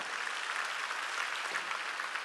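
Congregation clapping steadily and loudly in unison at an evangelistic revival meeting in an indoor gymnasium, a dense sustained wash of applause with no voices on top.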